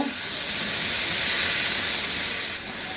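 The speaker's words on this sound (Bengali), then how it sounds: "এইটাকে একটু নাড়াচাড়া করে ভেজে নিব" Chopped capsicum and tomato fry in a pan with a steady, loud, close sizzle and hiss that runs unbroken throughout, with no talking.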